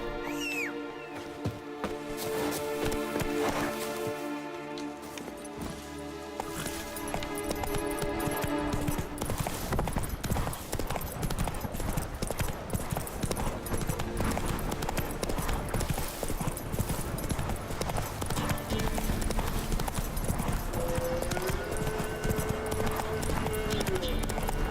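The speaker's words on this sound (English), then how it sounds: "Get on, Roach." Horse in The Witcher 3 galloping, hooves drumming in a fast steady clip-clop that builds after a few seconds and carries on loud and close, with game music and talking voices over it.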